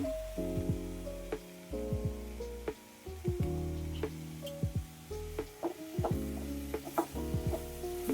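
Crushed spice paste tipped into a pan of Kerala leaf thoran made from ten kinds of leaves, then stirred, with a low sizzle under repeated scraping and knocking of a spoon against the pan, close and steady throughout.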